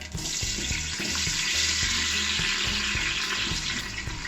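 Tomatoes dropped into hot oil in a preheated pan sizzle and hiss loudly and steadily, with faint rhythmic clinks of utensils underneath.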